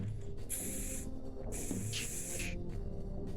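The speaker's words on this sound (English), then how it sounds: "Okay, now spray bottle." Spray bottle in the video game Space Station 14, two short bright hissing sprays about a second apart, the second briefly doubled, over a low background hum.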